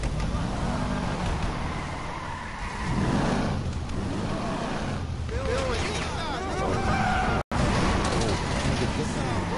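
A car driving in a video game during a police chase, engine drone with skidding tire squeals and revving, steady and fairly loud beneath frequent talking by a player.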